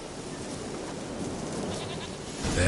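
A goat bleats in The Witcher 3 video game, a nasal animal call over a continuous game ambience that swells louder at the end, with no talking.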